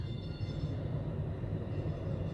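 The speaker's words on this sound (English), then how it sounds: "This is a train coming in, but he's already left." Steady low rumble and hiss of a train pulling into a station, a sustained mechanical drone heard from nearby without any talking.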